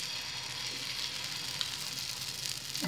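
Green chickpea bhabhra fries in oil on a griddle, giving a steady, soft sizzle and crackle that runs throughout, close and even, with no one speaking.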